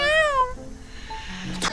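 A cat gives a clear, close meow with a rising then falling pitch that opens the moment, followed by quieter household sounds and a brief sharp noise near the end.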